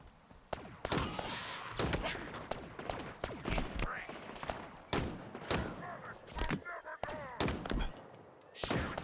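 Rapid bursts of video game gunfire crack repeatedly over several seconds, sharp and dense, with occasional quieter stretches between volleys.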